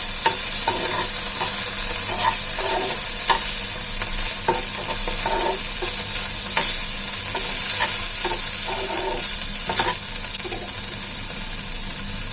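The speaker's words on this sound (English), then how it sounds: "Saute it until the raw smell goes." Ginger garlic paste sautés in a hot pan while cooking chicken salna, giving a steady, dense sizzle throughout, with soft scraping and clicking as it is stirred.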